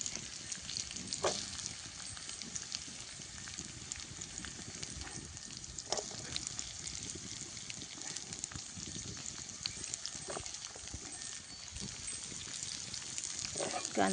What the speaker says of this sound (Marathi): कांदा चांगला परतला